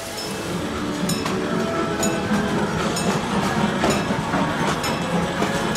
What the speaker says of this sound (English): We're up here on the monorail.